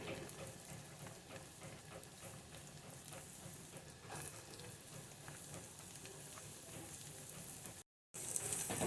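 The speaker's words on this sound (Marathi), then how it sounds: "कांदा लसूण चांगलं तेलात परतून घेऊया।" Chopped onion and garlic sizzle in hot oil in a pan over a medium flame while cooking chandan batva bhaji, a steady, close frying hiss running throughout with a brief dropout near the end.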